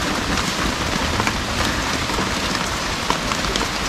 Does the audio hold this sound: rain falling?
yes